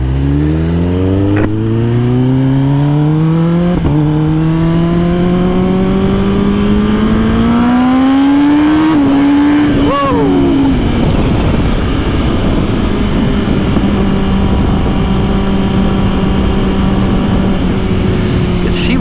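A 2022 Kawasaki ZX10R is ridden hard. The loud engine revs climb steadily through the gears, then drop sharply and settle into a steady drone, all under constant heavy wind rush.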